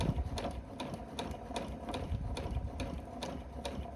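A sewing machine runs slowly and steadily along a long strip of fabric, sewing a straight line parallel to a first row of stitches. The needle chatters in a continuous mechanical rhythm, close and alone.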